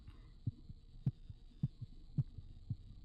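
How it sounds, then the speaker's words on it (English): A slow, steady heartbeat from the horror video game The Cat Lady, with soft, low thumps arriving in pairs about every half second over a faint steady hum. No voices. "Do you guys hear that heartbeat?"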